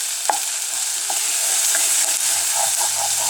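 Onions frying in a pan for chili give a steady close sizzle, with a few light spoon stirs and scrapes on top and no voices.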